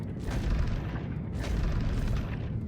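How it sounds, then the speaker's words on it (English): A spaceship in a video game fires all its ballistic guns at once, producing a continuous low rumbling barrage of booms with a few brighter thuds cutting through, steady and heavy throughout. "So when I fire all my guns,"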